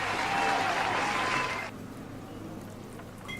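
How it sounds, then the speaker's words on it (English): A tavern crowd bursts into loud cheering and clapping after a bagpiper finishes. The dense wash of applause cuts off abruptly partway through, leaving quieter room tone behind. "as soon as the bagpiper stops, they all start cheering and clapping loudly"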